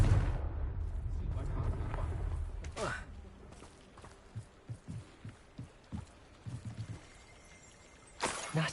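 A Confringo fire-blast spell in the Hogwarts Legacy video game bursts out as a loud broadband blast, followed by a run of shorter thumping impacts and a second sharp burst near the end, over low rumbling game ambience.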